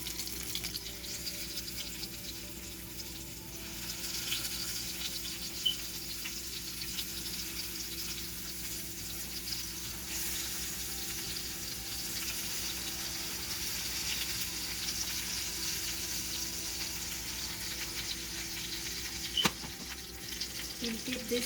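Stuffed eggplants fry in hot oil seasoned with asafoetida in a pan over a medium flame, giving a continuous soft hiss and crackle with a couple of faint clicks.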